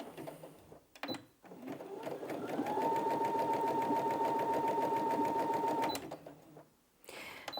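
A Brother Innov-is A16 sewing machine runs a standard zigzag stitch in a steady, rapid mechanical chatter with a faint whine, close and loud for about three seconds, with brief handling noises before and after.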